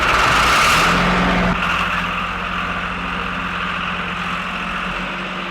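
John Deere farm tractor engine running loudly up close, a deep steady idle rumble that shifts down after a brief louder rev at the start.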